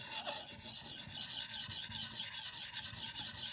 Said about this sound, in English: I'll take this 1200 grit diamond stone and I'll hit it just a lick, just a little bit.